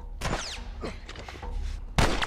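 Gunfire in the video game The Last of Us: a couple of sharp, loud bursts with quieter thuds and shuffling between them.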